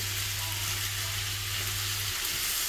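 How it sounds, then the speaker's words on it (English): Heated pesto chorizo sauce is stirred into pasta in a pan, giving a soft, steady sizzle and faint scraping along with a low background hum. "we're just going to stir it in to the pasta"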